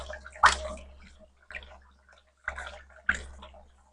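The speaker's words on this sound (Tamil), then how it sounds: "நல்லா மிக்ஸ் பண்ணிக்குவோம். நல்லா மிக்ஸ் ஆகணும்." Liquid phenyl sloshes and splashes in a container as it is stirred and mixed, in several separate bursts of churning water with quiet pauses between them.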